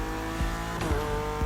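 A BMW M4 slides across a wet road in the racing game The Crew Motorfest, its engine holding a steady drone while tyres scrub and squeal through the skid, loud and close with no talk.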